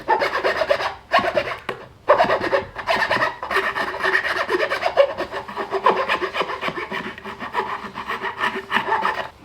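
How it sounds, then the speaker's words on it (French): A hand file from a Leatherman Swiss Tool rasps across wood in steady repeated strokes, close and fairly loud, with brief pauses between passes and no talking. "Pareil, lime à bois, petit chanfrein, parfait, pas de problème."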